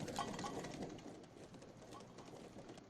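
Horse archers' hooves beat in the Lines of Battle video game: a soft, rhythmic clip-clop of several horses, fairly quiet and continuous, with a voice speaking over it.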